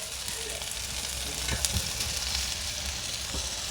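An egg and vegetable pancake frying in a pan, with a dense, continuous sizzle and a few faint scraping touches throughout.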